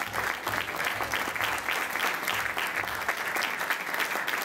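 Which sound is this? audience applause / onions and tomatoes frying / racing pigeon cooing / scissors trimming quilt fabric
audience applause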